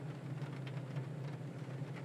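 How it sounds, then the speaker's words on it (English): Steady rain pattering on an aircraft in Microsoft Flight Simulator 2020 flying over Tohoku, northern Japan, a dense continuous hiss of drops with a low hum underneath, even and unbroken throughout. "the raindrop sounds,"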